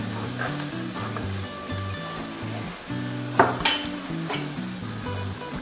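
Besan and yogurt mixture for kadhi being stirred in a pot, with a bubbling sizzle under a low hum and a few sharp scrapes and clinks of the spoon against the metal, close by and with no speech.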